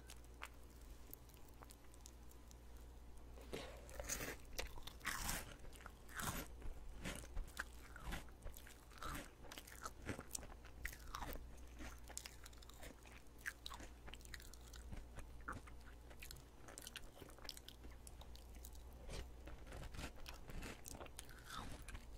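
Crunchy rice honey ring cereal eaten with milk, heard close up as repeated crisp bites and wet chewing crunches in steady rhythm, binaural, with no talking.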